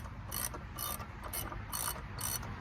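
A hand ratchet cranks in quick clicking bursts to pop a Can-Am Ryker CVT clutch assembly free from the main shaft, five or so rapid ratcheting runs over a low mechanical rumble, close and loud.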